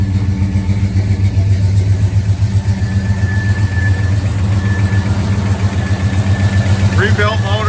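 A 1972 Chevrolet C10 pickup with a rebuilt motor and headers idles steadily and loud and close, its low, even rumble pulsing throughout with no revving and no talk.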